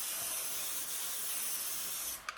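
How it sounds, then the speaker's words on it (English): Cooking spray hissing steadily from a can as a baking pan is greased for peach cobbler dumplings, a close, continuous spray lasting about two seconds before stopping. "so I'm going to grease this pan"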